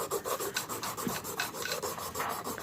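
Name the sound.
sanding pulley with sandpaper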